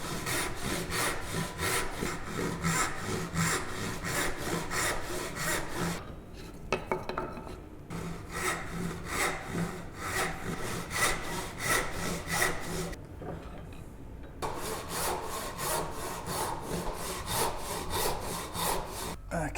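Hand saw cutting out waste wood for a bridle joint in a practice frame, with steady rhythmic back-and-forth strokes, close and clear, pausing briefly twice before resuming the same cadence.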